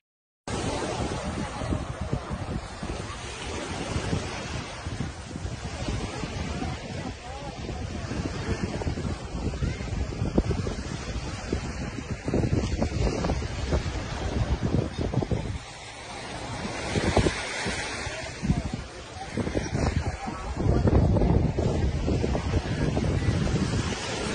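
Surf rolls onto a beach under strong wind that buffets the microphone, giving a loud continuous roar of waves and gusts across the whole clip.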